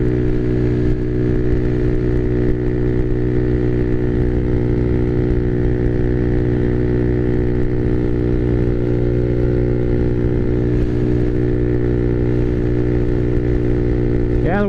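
A Honda Navi motorcycle fitted with a Yoshimura exhaust runs with a steady, loud engine drone and a strong tonal hum, unbroken throughout with slight pitch shifts near the end, heard close.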